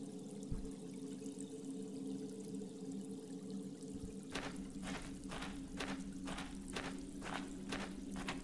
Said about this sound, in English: It's a natural well formed by the running water.